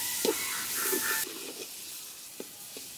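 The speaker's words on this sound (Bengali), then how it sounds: "মশলা কষানো হয়েছে, এখন চিংড়ি মাছগুলা দিয়ে দিই।" Shrimp go into a pan of spiced masala cooked with tomato sauce, yogurt, salt and sugar, giving a brief bright hiss of sizzling that settles into a quieter fry with a few soft clicks.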